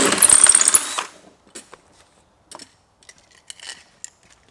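A half-inch hole being drilled through a chemical sprayer tank: a loud, dense burst of drilling for about a second, then scattered faint clicks and light handling knocks.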